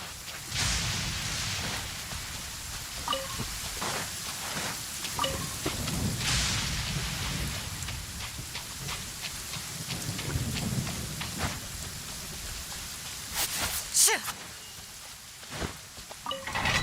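Rain falls steadily in the Genshin Impact video game, with rolling thunder and a few sharper cracks of thunder near the end over the constant downpour.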